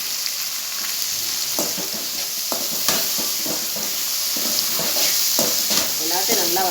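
Mint and coriander sauté in a pan for mutton curry, with scraping stirs and clacks over a constant loud sizzle of hot oil, alone without speech.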